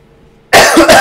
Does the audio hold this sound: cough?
yes